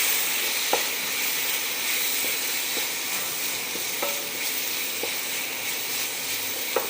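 Cauliflower kurma sizzling and frying steadily in a pan, with a constant bright hiss and a few soft scraping taps as it is stirred, heard up close and alone.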